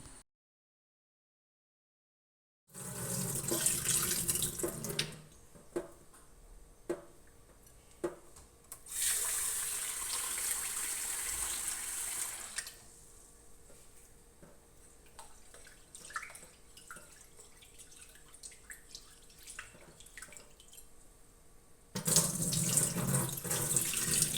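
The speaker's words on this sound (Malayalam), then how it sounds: "മൂന്ന് പ്രാവശ്യം കഴുകിങ്ങാണ്ട് ഇതിലെ പശയൊക്കെ ഒന്ന് കളഞ്ഞ് വെള്ളം ഊറ്റി വെക്കണം" Rice being washed in water at a kitchen sink, with running tap water and swishing and splashing in bursts separated by quieter stretches after a short silent start.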